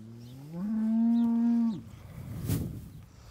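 A cow in a barn lets out one long, loud, close moo lasting about a second, followed by rustling and a brief thump.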